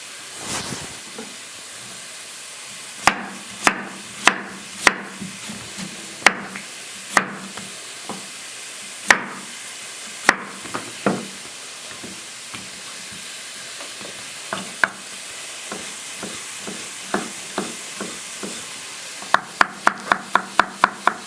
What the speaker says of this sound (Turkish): Bu şekilde küçük küçük doğruyorum.